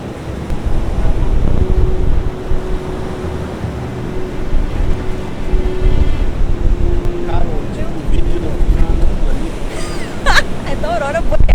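Strong wind roars across the deck of a cruise ship at sea, a loud continuous buffeting rumble against the microphone, with a voice speaking faintly beneath it.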